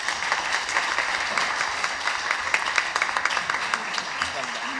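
Audience at a 2016 social enterprise international forum applauding panelists and presenters, a continuous crowd of claps with busy rustle, fairly loud and steady with some voices mixed in.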